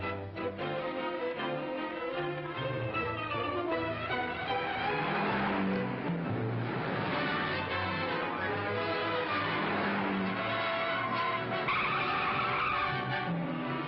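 Tires squeal and skid without a break as a speeding car tears away in a 1948 film noir chase, loud and close on a slightly muffled old film soundtrack, with no talking.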